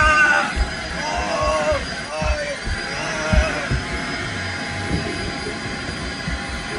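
A vacuum cleaner runs as a steady, broadband whine throughout, with a person talking over it and dogs nearby in a home.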